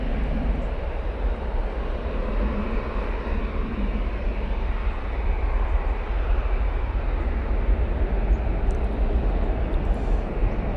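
Airliner taking off from Manchester Airport, bound for Amsterdam Schiphol: a loud, steady broadband jet roar with deep low rumble, sustained without break and no talking.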